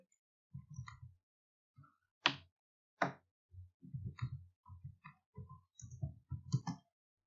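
Someone types on a computer keyboard while filling in a WordPress contact form field, producing quiet, scattered key clicks in short bursts with pauses between them in a silent room.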